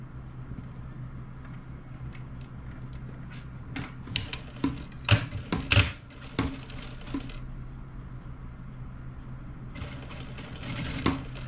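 A sewing machine stitches a pajama collar at a quarter-inch seam, running in short mechanical bursts with a humming motor and sharper clatters in the middle, close and fairly quiet.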